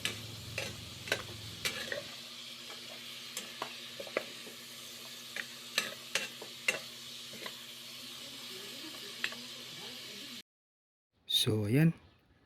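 Pork adobo being stirred in a frying pan, with intermittent scraping and clinking strokes over a steady low sizzle, ending in a short louder burst after a brief silence.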